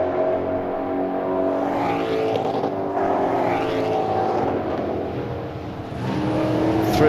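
Ford Mustang race cars at Mid-Ohio Sports Car Course roar steadily through a fast kink toward the next turn, multiple engines droning at high revs with rising and falling pitch as they sweep past, loud and continuous throughout.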